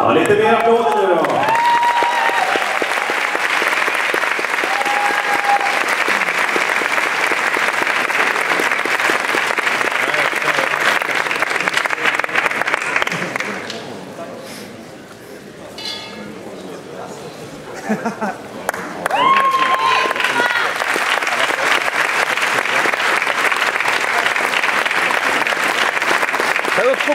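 A crowd at a bodybuilding championship claps continuously and loudly, the applause dropping away briefly midway before surging back, with a voice speaking over it at the start and again after the lull.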